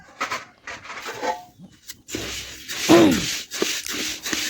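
Dry rice is stirred in a hot wok with short, uneven scraping and rustling strokes, close and fairly quiet, separated by brief pauses.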